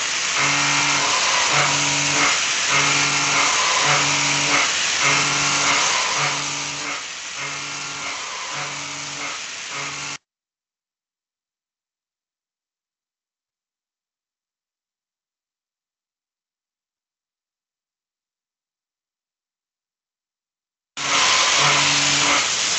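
Steady, loud machining hum with a regular pulsing pattern as a KYOCERA MFH Mini milling cutter cuts grooves and shoulders, running continuously, then cutting off into silence before resuming briefly at the end.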